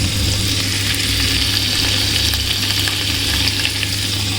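Ginger goes into hot oil with frying spices, giving a loud, dense, unbroken sizzle that holds steady, heard close with no voices.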